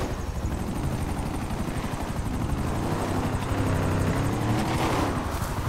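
A helicopter in GTA 5 Online drones loudly and steadily throughout, its rotor chop and engine roar filling the scene with no one talking.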